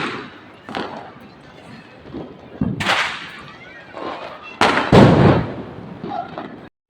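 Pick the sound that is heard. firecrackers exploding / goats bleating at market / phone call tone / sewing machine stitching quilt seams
firecrackers exploding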